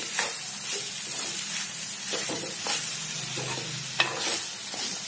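Onions frying in a pan with salt, cooked with asafoetida and fenugreek for a brinjal pulusu, giving a continuous close sizzle broken by several scraping stirs and one sharper clack near the end.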